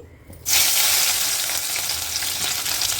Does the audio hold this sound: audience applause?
no